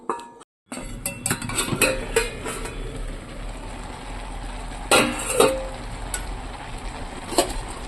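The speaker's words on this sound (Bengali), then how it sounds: "তো ঢাকনা দিয়ে দিই একটা" A metal lid set onto a cooking pot in a home kitchen, giving a few close clinks and clatters among ongoing kitchen handling noise, with a brighter clank near the middle.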